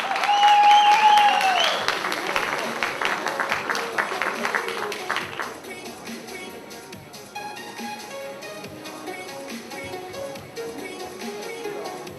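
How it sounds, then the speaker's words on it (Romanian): Audience applause for junior athletes in the under-70 kg, under-19 category at the Steel Man Trophy award ceremony in Târgu Neamț: loud, dense clapping that fades into softer, scattered clapping with crowd noise and some talk. "Haideți să aplaudăm pe acești minunați sportivi"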